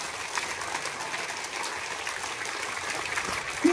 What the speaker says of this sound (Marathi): आणि जोरात टाळ्या वाजवायच्या